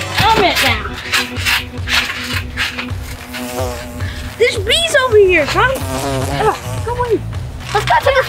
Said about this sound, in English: There's too many bees.